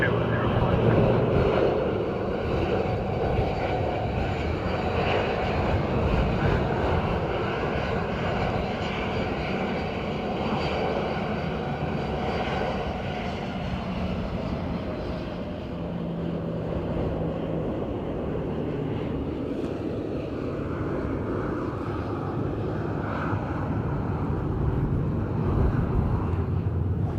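Steady roar of a jet airliner landing at Dublin Airport on a windy morning, a broad continuous engine and wind rumble sustained throughout, with faint radio chatter from the control tower underneath.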